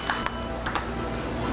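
A table tennis ball is struck back and forth during a rally, giving light, bright pings in quick pairs and singles over a steady, noisy background, with no clear talk.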